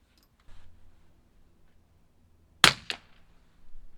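A single sharp, loud crack rings out, followed by a quick echo, against an otherwise quiet background with faint shuffling before and after.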